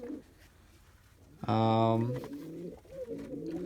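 Pigeons coo in a loft, one loud, close, drawn-out coo standing out above softer cooing and faint shuffling; the birds include white pumper pigeons kept for breeding.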